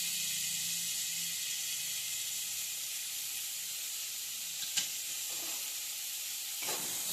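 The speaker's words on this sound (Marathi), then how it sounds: "आता कांदा फ्राय होऊन मऊ झालेला आहे कांदा, तर त्याच्यामध्ये आपण टोमॅटो टाकून घ्यायचा आहे" Chopped onion and tomato fry in a pan with salt: a steady, bright sizzling hiss runs throughout, with a couple of faint stirring knocks near the end and no speech.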